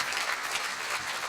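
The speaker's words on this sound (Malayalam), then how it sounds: "അടി കയ്യടി, അതാണ്" Audience applause on a Malayalam TV music show after a performance, a brief, even patter of many clapping hands with no voices.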